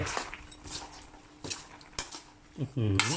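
Chicken with holy basil is stir-fried in a pan, bringing quick metallic clinks and scrapes of a spatula against the pan, with a brief voice rising at the very end.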